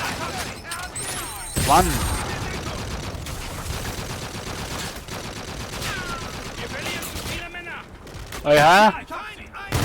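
Rapid automatic gunfire from Call of Duty: Infinite Warfare played on PS4, with dense bursts of shots and louder blasts in a busy firefight while someone talks excitedly over it.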